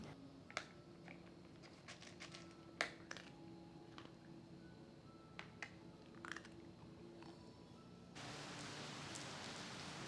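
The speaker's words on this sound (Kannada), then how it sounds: "ಚೆನ್ನಾಗಿ ಮಳೆ ಬರೋದಕ್ಕೆ ಶುರು ಆಗಿತ್ತು" Rain falling in Bangalore, heard as faint scattered drops and pattering taps that swell into a steady, dense wash of heavy rain in the last couple of seconds, with no voices.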